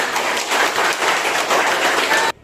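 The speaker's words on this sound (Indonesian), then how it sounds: "Berikan tepuk tangan." Students in a classroom clap, a brief dense burst of close applause that holds steady for about two seconds and then stops abruptly into near silence.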